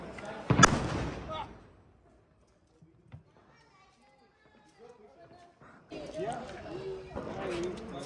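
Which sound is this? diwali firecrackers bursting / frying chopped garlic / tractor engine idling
diwali firecrackers bursting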